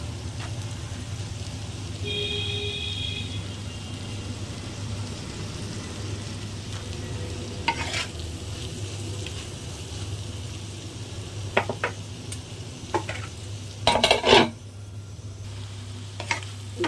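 Plenty of chopped onion frying with taro stolons in a pan, a steady low sizzle over a constant hum, with occasional utensil scrapes and a cluster of louder clatters near the end.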